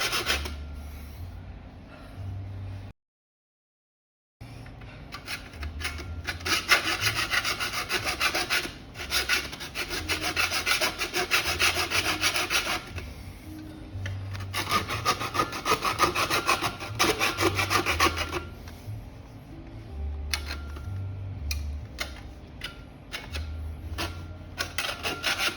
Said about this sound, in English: Proceed to cut the HAGA bar at an angle.